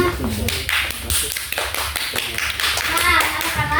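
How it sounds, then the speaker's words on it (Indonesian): A classroom of children breaks into applause after a student presentation, brisk and fairly loud throughout, with children's voices mixed in. "Kasih tepuk tangannya."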